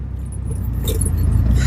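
An auto rickshaw ride through congested traffic: a steady engine rumble with light rattling and jangling that grows slightly louder.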